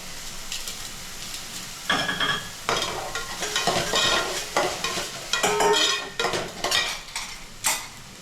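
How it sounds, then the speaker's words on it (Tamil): Mushrooms frying in a pan with salt, turmeric and spices, a constant soft sizzle broken by frequent clattering scrapes of a spoon stirring against the metal, close and fairly quiet. "ஒரு நிமிஷம் நல்லா வதங்கணும்."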